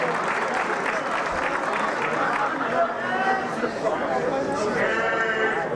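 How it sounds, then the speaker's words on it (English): An audience at a pageant applauds the final finalist called up for questions, a steady roar of clapping mixed with shouts and cheers that continues through the whole stretch. "A round of applause for our final finalist in Q&A."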